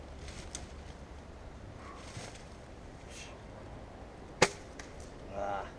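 A single arrow loosed from a bow strikes an outdoor practice target with one sharp, loud crack, set against steady wind noise and quiet open-air background.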